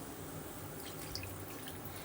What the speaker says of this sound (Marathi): यात जाईल आता एक वाटी पाणी